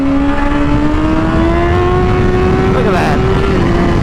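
A 2019 Honda CBR1000RR SP sportbike engine revs hard and close, its loud, steady high-pitched whine climbing slowly in pitch through a held throttle, with a brief gear-change dip near the end.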